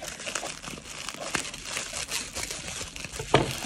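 Scissors snip and crinkle through the packaging of a Macron Magic eyeshadow palette by Amouras, giving a steady close-up rustle with one sharper crunch near the end.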